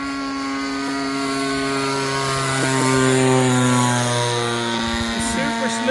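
A 30cc gas engine on a Great Planes Giant Avistar RC airplane drones loud and steady with a buzzing propeller whine, its pitch holding then dipping briefly near the end as the mixture is leaned for higher RPM.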